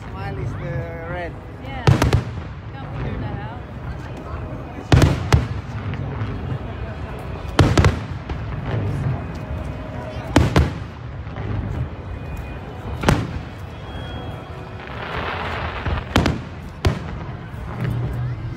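Fireworks display at the WA Day Festival in Burwood Park, Perth: loud booming bursts every few seconds, each followed by crackling and fizzing, with crowd murmur and voices running underneath throughout.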